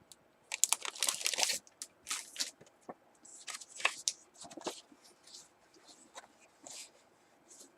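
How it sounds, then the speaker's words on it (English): A paper card slides out of a Christmas envelope with quiet, close crinkles and rustles in short irregular bursts, louder at first and then fading to soft scattered handling noises. "I'm going to take one of these cards out"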